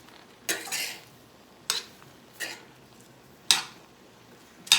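A utensil scrapes and clinks against a pan in four or five quick, separate strokes as chopped curry leaves are stirred, close and fairly quiet with near silence between strokes.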